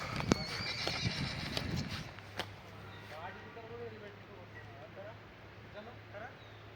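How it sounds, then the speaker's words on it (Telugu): Horses run loose on open ground in Ooty while people try to catch them, giving soft distant hoofbeats and a brief neigh at a low level, with wind noise and some faint talk. "గాయస్ చూడండి ఇగో గుర్రాలు అయితే ఉరుకుతున్నాయి."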